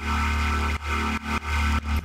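Synth bass in Bitwig Studio run through flanger, phaser, delay and reverb effects: loud, dense, buzzing sustained notes retriggered in short rhythmic bursts, close and alone.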